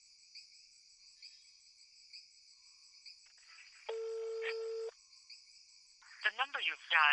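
A single steady telephone tone sounds for about a second while someone places a call, over faint crickets at night; a voice speaks shortly after.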